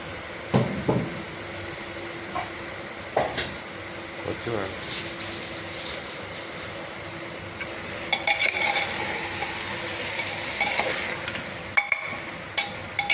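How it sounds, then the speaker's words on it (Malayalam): Chicken biryani masala is stirred in a pot, giving soft scraping and sizzling with scattered clinks of a spoon against metal, spread irregularly under a murmuring voice. "നല്ലവണ്ണം കുറച്ച് നേരം ഇളക്കണേ"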